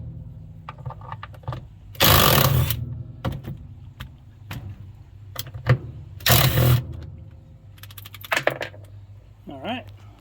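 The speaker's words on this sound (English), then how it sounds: "let's get those bolts undone. Let's see if our 18 volt little impact has enough oomph." 18-volt cordless impact wrench undoing tight bolts in cramped quarters in a garage: two loud hammering bursts of a couple of seconds each, close by, with clicks and handling noise between and brief speech.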